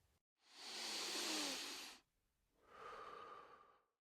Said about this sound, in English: Please take a deep breath in and out.